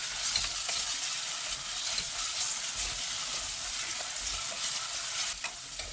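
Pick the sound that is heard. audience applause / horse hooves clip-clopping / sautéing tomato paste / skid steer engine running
sautéing tomato paste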